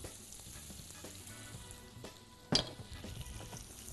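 Butter and a little oil sizzling in a heating frying pan, a steady close hiss with a sharp clatter or splash partway through, then continued frying.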